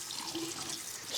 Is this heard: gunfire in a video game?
no